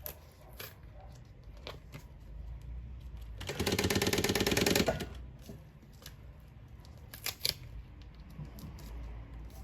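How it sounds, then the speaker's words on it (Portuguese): A sewing machine stitching a synthetic-panel pencil case folder, with a single loud continuous run of rapid mechanical stitching lasting about a second and a half, then quiet handling clicks and taps close by. "Posiciona onde vincou e costura."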